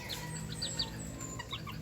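Bantam hen clucking inside a small chicken coop, a few soft, short clucks repeating over steady background noise, close by with no talk.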